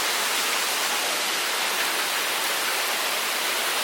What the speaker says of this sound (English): And the water from above, that's just excess runoff